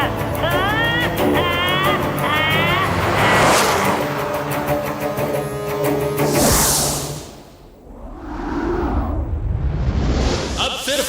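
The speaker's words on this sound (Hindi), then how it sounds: "सभी कारें एक दूसरे को ओवरटेक करती हुई मॉडर्न सिटी के अंदर एंटर करती हैं" Cartoon race cars speed past and overtake one another in a modern city, with loud engine roars and whooshes, music underneath, then a brief lull before another car rushes through.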